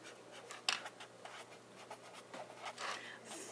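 A pen scratching across paper while a simple-interest math answer is written out, a close, quiet series of quick strokes and taps.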